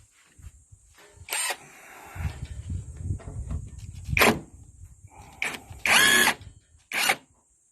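A power drill or impact tool spins an 11 mm socket to undo bolts while replacing a car's left-side MacPherson strut and shock absorber, firing in several short loud bursts separated by quieter rattling and handling noise.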